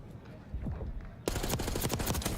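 Rapid bursts of automatic gunfire from a Black Ops 6 esports match erupt loudly halfway through, following a murmur of voices and scattered shots, dense and close.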